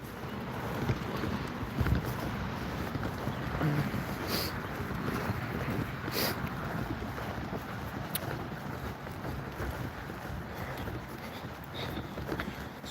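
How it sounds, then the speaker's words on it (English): Strong, steady wind gusts across an outdoor archery range, a continuous broadband roar buffeting the microphone throughout with no talking. "the wind is definitely a real consideration, but given the fact that it's this windy, we're still shooting really well"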